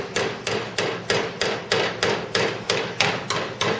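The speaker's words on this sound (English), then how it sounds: "I've got a file under there and I sort of hold it and tap along." Repeated metal-on-metal hammer taps working along the flange edge of a Ford Cortina GXL dash panel held against a file, about twelve sharp, evenly spaced blows, close and loud, with no talk.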